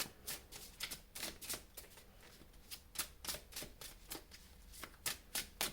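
Tarot cards shuffled by hand ahead of a reading, a quick run of crisp riffling bursts and soft slaps repeating steadily at close range, with no one talking.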